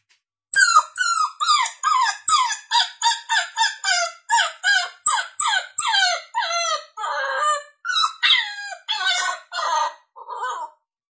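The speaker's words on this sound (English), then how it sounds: "a pup distress sound" A rapid series of high, yelping cries from a coyote pup distress call recording, with sharp rising and falling pitches, repeated steadily and loudly, sounding like a young canine in distress.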